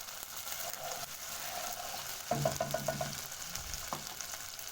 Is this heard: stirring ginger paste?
yes